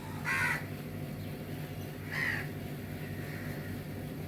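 Two loud caws from a nearby crow ring out a couple of seconds apart, followed by a fainter caw, over a low background hum.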